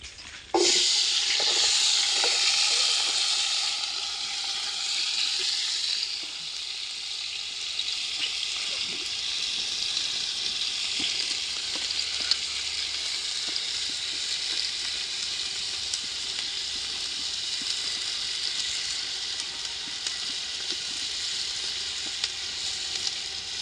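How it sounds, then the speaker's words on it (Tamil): Onions sautéing in a frying pan give a steady, close sizzling hiss that begins loud and settles into a continuous crackling fry, with faint stirring clicks throughout and no talking. "வெங்காயத்தை நம்ம பொன்னிறமாக வதக்கிக்கலாம்."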